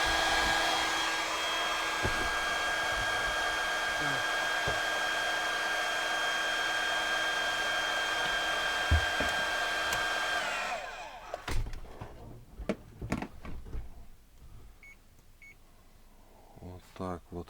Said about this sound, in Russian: И тут вот фен включал. Вот такой фен